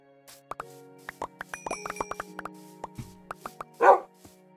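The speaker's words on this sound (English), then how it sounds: "Oh, my dog is still here." Minecraft dog (wolf) giving short barks and yips in a scattered series over a game soundtrack, with soft plopping effects and a louder burst near the end.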